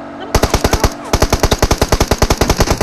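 Rapid automatic gunfire in PUBG Mobile, loud and close, with a short burst, a brief pause, then a long steady stream of evenly spaced shots.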